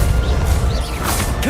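A Bombarda blasting spell going off in Hogwarts Legacy, a loud, dense crash with a swishing burst, filling the short moment with continuous rumbling noise and no voice over it.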